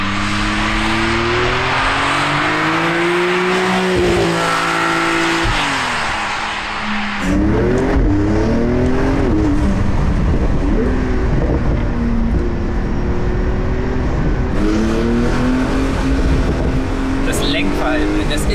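A Porsche 911 Turbo Cabriolet roars past at close range, its engine note climbing and falling through gear changes as it passes, then another loud pass follows, with a voice talking over the engine.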